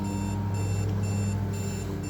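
An alarm clock beeps steadily and loudly in a repeating pulsed pattern, filling the whole moment with no voices.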